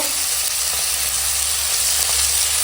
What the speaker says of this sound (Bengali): এখন কাঁচা মটর দিয়ে দিয়েছে আর দিয়ে দিয়েছে আলু টুকরো করে কাটা তো দিয়ে এখন মশলার সঙ্গে সুন্দর করে কষাচ্ছে